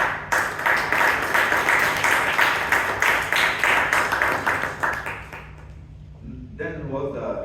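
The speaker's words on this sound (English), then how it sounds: "big round of applause to the president," Audience applause at a Toastmasters club meeting in Bangalore: steady, dense clapping for about five seconds that fades out, after which a voice begins speaking.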